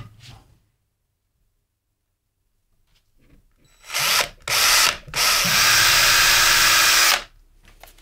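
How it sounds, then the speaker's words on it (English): A 2.5 mm bit drills holes in a guitar body for the scratch plate. After a quiet stretch, a power drill gives two short bursts and then one long steady whine close to the listener. "Next thing I've got to do is to drill holes to attach the scratch plate."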